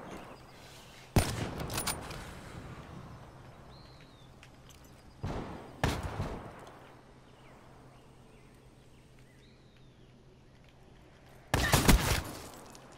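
Shotgun blasts in the video game Call of Duty Black Ops 3 come as three sharp, loud reports spaced several seconds apart, each ringing out briefly over a quiet background.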